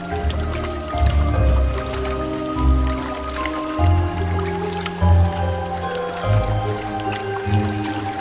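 A rapidly flowing river in the Quest for Infamy game, with water splashing, dripping and gurgling steadily, heard alongside a tonal music bed with rhythmic low pulses.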